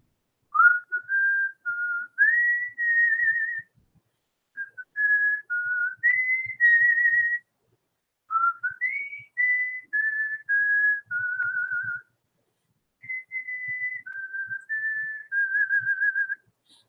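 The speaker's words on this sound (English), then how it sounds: "I gotta whistle happy birthday for Kelly since I can't sing it." A person whistles Happy Birthday solo, clear close melodic phrases with short pauses between lines, loud against silence.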